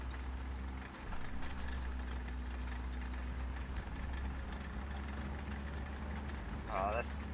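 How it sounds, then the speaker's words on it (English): World War II tank engines in a video game give off a low, steady idling rumble, held at a modest level beneath ongoing talk, with a brief higher-pitched sound near the end. "I hear so many engines."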